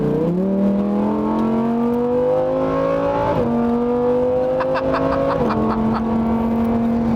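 Lamborghini Huracán Performante engine revving up in three rising pulls, each climbing in pitch before dropping back, loud and close, with no talking.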